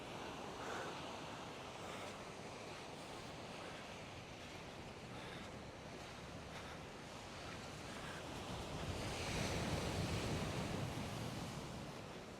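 Ocean surf breaking on the beach at Puerto Escondido on Mexico's west coast, a steady broad wash of waves with some wind noise across the microphone, swelling louder near the end as a bigger wave rolls in.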